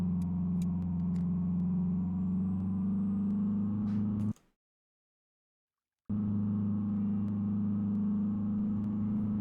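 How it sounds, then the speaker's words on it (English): Loud, steady engine drone of a car fitted with a trolley race engine in a truck-driving video game, running continuously before cutting to silence for about two seconds and then resuming at the same level. "Why is my car so loud? Because apparently I have the trolley engine, aka race car engine"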